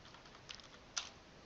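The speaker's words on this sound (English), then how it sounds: "typing in the password" A few quiet, scattered keystrokes on a computer keyboard as a password is typed, two or three soft clicks spaced apart over a faint background hiss.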